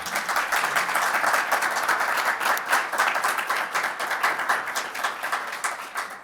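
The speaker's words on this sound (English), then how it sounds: "you can applaud for that" A crowd claps steadily in sustained applause, dense and even throughout.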